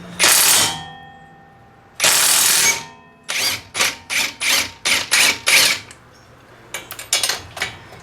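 Power tool driving a 19 mm crash bolt and nut on the strut of a 2022 Toyota GR86: two long loud bursts, then a rapid series of six short hammering pulses, with a few fainter rattles at the end.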